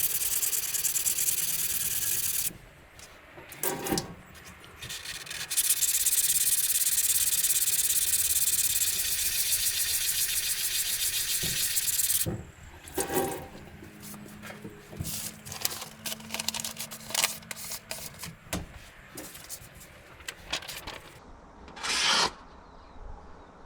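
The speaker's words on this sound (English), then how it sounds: "you just want to be applying equal pressure to all edges of the knife" Budget kitchen knife drawn across sandpaper, a close, raspy scraping in long continuous strokes that break into shorter rubbing passes with pauses between.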